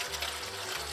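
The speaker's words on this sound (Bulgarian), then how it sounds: "Затова слагаме вода да не загорят." Water poured over pork cracklings in a pot as the fat is rendered: a steady, full rushing pour that runs unbroken and fairly loud, with no talking.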